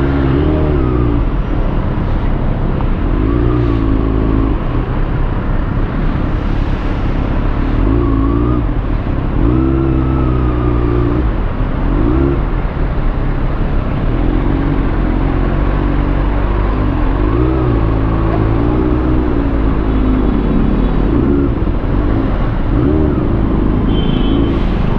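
A motorcycle engine drones steadily throughout a ride, its loud, close rumble rising and falling slightly with throttle changes, with wind and road noise mixed in.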